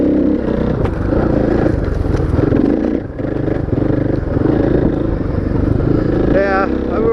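A motorcycle lapping a track with a steady, loud engine drone that briefly dips and then resumes, heard close from the rider's position under wind rush, while a rider talks over it.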